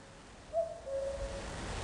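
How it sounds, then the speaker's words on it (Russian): A common cuckoo calls once, a soft two-note tonal hoot, faint and alone against quiet background hiss. "Кукушка."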